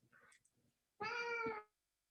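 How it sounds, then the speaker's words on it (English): A house cat gives one clear, drawn-out meow, loud and close, after a few faint rustling sounds, then silence. "Oh, she has a cat too."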